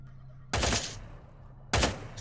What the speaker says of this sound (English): I heard shots already.